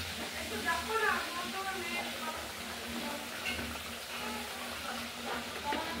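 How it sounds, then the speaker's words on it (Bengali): Spice paste frying in a pan for catla fish curry with potatoes, bori and coriander leaves: a steady, moderate sizzle and hiss with faint stirring, continuing under a person talking. "মশলাটা কষানো হয়ে এসেছে প্রায়"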